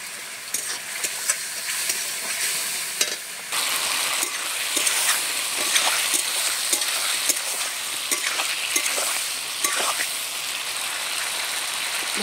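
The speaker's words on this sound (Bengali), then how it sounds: "কষানো মশলার মধ্যে এবারে আমি আলু ভাজা আর পটল ভাজা দিয়ে দেবো।" Fried potato and pointed gourd are stirred into masala sizzling in a pan, a loud continuous hiss with frequent scraping clicks of the spatula, close by, with brief talk.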